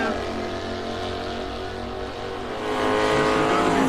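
Drag race cars launching side by side at a raceway, a loud sustained engine roar that swells louder toward the end, with a faint voice beneath.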